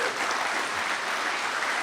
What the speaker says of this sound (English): I don't want you to use up all of my time giving Scott applause